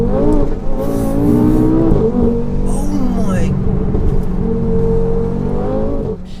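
The 810 horsepower Audi RS3 saloon's engine drones loudly and steadily with rising and falling pitch as it pulls, close and constant throughout, with a voice briefly over it.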